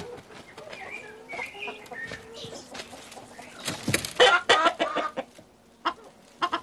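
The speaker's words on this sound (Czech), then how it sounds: "Kvočnu nechcete?" A broody hen clucks close by, a series of soft clucks and squawks that grow louder and more agitated midway, with a few sharp calls near the end.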